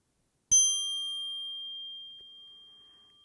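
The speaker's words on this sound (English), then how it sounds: "Following the sound of the bell" A single mindfulness bell struck once, ringing out clear and sustained with a long, slowly fading tone in quiet surroundings.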